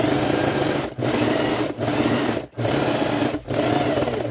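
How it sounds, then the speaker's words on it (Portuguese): Sewing machine stitching all the way around a fabric scissor holder to close its opening, a steady loud whirring run broken by three brief pauses. "Ou passar uma costurinha aqui em toda a volta, tá? Pra gente fechar essa abertura aqui agora."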